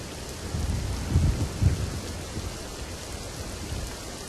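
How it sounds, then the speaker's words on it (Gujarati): Heavy monsoon rain pours steadily in Surat district, a dense close hiss of downpour, while a deep roll of thunder rumbles low in the first two seconds before the rain continues alone. "તો સુરત જિલ્લામાં અવિરત ધોધમાર વરસાદ છે"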